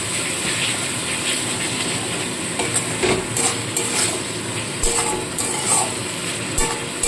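Spice mixture for chicken pilau frying in a pan, a steady close crackling sizzle with scraping and stirring noises running through, no talk.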